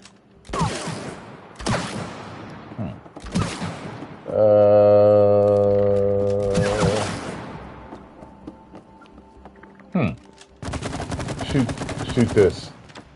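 Gunfire aimed at a trap in the co-op game It Takes Two, with a few separate sharp shots, a sustained tonal hum in the middle, and then a rapid burst of fire near the end.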